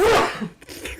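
A person sneezes once during a tabletop Dungeons & Dragons game session: a loud, sharp burst up close that quickly fades into quieter room noise.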